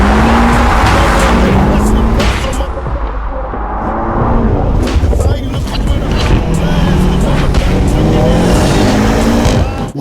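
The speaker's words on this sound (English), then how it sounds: "My business is to burn tires." A BMW M5 F90's V8 engine roars loudly and continuously, with tires squealing in a harsh, sustained burnout up close.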